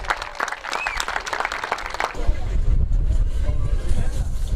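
At an outdoor motocross award ceremony, clapping from the crowd is heard for about two seconds, then gives way to strong low wind rumble and background noise.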